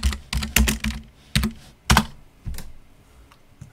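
Short burst of typing on a computer keyboard: several close, sharp key clacks in quick clusters, then a couple of softer final taps, with no one speaking.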